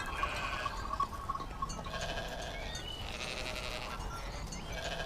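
Sheep bleat repeatedly in a flock grazing on farm fields, with several overlapping calls near and far, fairly loud, and no speech.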